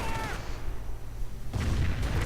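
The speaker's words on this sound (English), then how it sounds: "we see a firestorm to try and clear out this nest of trouble" Firestorm strike explosions in a war strategy video game, with deep booming blasts, a quieter lull, then a fresh rumbling barrage.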